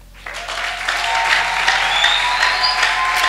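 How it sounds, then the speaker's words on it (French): Children applaud and cheer in a church, a sudden burst of dense clapping that starts abruptly and holds steady and loud, with high excited voices shouting mixed in. "Est-ce que ces enfants maintenant peuvent acclamer?"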